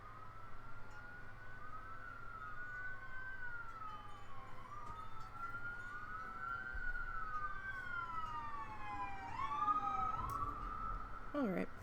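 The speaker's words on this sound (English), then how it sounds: "Sirens are going to be going by in just a second." Distant wailing sirens rise and fall continuously, several overlapping as emergency vehicles pass on a busy road, over a steady background of traffic rumble.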